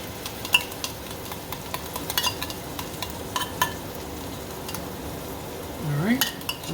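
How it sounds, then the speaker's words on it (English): Tomato sauce poured into a hot pan for shrimp arrabbiata gives a soft, steady sizzle, with scattered light clinks and scrapes of utensils against the pan and a brief stirring swirl near the end. "A cup of tomato sauce going in."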